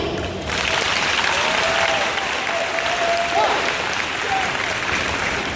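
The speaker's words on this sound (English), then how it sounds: "Clap again." Crowd applause at a horse training tour event, steady dense clapping filling the whole stretch at moderate loudness with no voices standing out.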